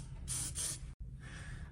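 Water spraying onto the outer grate of a Honeywell 5300 air purifier, heard as two close hissing bursts, a brief break, then a softer continuing spray.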